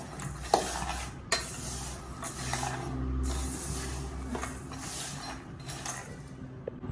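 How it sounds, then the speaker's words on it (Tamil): Walnuts, cashews, pumpkin seeds and chia seeds dry-roast in a pan on low flame, with a faint continuous crackle, scraping stirs and a few sharp knocks of the spoon against the pan. "லோ ஃப்ளேமில் 2 நிமிஷம் வறுக்கணுங்க."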